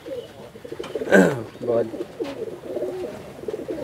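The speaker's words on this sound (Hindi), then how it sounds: "ये भाई का घर का धारी कबूतर है, ठीक है। ये भी चेन्नई का ब्रीड है" Striped home-loft pigeons of a Chennai breed coo in soft low rolling calls, with one louder burst among repeated murmurs nearby, while someone speaks over them.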